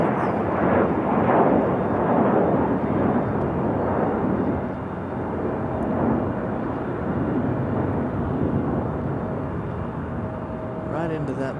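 JetBlue airliner departing Raleigh Durham International airport, a loud broad roaring jet rumble that holds steady and slowly eases, heard from a distance outdoors with a brief higher chirping sound near the end.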